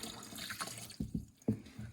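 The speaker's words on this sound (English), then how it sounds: "now we're just using that 3/8 line to drain all the gas out" Gasoline drains from a 3/8 line off the fuel system of a Harley Dyna motorcycle during its teardown, a steady liquid hiss with a few splashing bursts close by and no talk.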